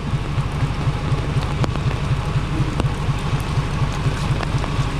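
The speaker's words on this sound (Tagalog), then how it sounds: "Sabi ang ulan ayaw tumigil" Steady rain falls without letup during a truck transport of a walk-in freezer, a dense continuous hiss with a low rhythmic rumble underneath and a few sharper drips or knocks.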